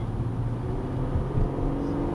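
A 2012 Ford Fusion SEL V6 accelerates, heard from inside the cabin as a steady low engine drone and road hum that swells slightly, continuous and fairly loud, with no talk.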